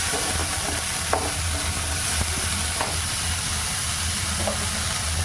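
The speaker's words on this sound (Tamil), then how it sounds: "எல்லாத்தையும் போட்டு நம்ம வதக்கிறோம்" Carrot and cabbage sautéing in a pan for a creamy pasta, a steady moderate sizzle with a low hum underneath and a few scattered stirring clicks.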